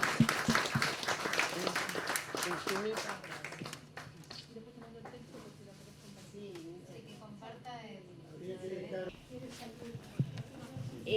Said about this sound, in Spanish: así que un aplauso, Ana, muchas gracias.